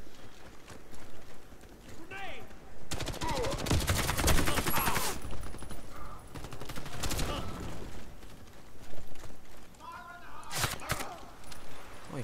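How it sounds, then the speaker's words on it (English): Bursts of rapid automatic gunfire and single shots in the multiplayer shooter Warface, loud and close, with players talking over the action throughout. "Oh, he shot through the panel, apparently."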